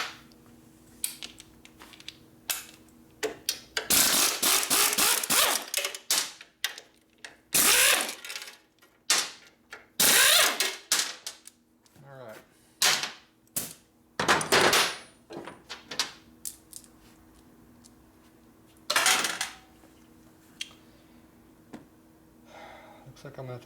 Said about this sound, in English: Pull out the bolts right here.